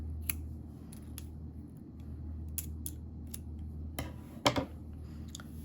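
Scissors snipping a crochet yarn tail, a few faint clicks early on, then a sharper double snip near the end, close against a quiet room with no talk.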